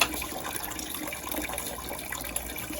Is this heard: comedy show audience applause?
no